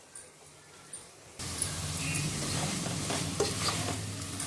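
Coriander and mint leaves frying for veg biryani in a cooker, a sudden burst of sizzling after a quiet start, then steady frying with stirring scrapes.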